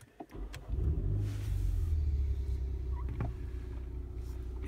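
MINI John Cooper Works firing up via keyless start: a short starter crank, then the engine catching into a steady, fairly loud rumble that settles into idle, no voices.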